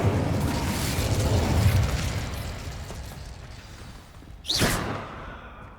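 An Incendio fire spell cast in Hogwarts Legacy, a sustained roaring whoosh of flame followed by a bright rising burst near the end, loud and full against a noisy game background.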